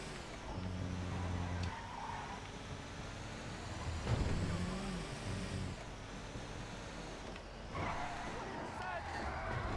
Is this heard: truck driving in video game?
yes